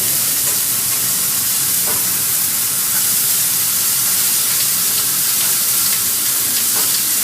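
Onions grill on a pan beside a burger, sending up a loud, steady sizzle and hiss with faint crackles, heard alone and up close for the whole stretch.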